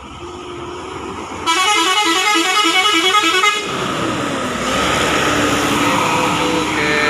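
A long-distance bus from Bengkulu sounds its loud multi-tone horn up close, a rapid warbling melody that blares for a couple of seconds before giving way to a continuous steady horn note over engine noise.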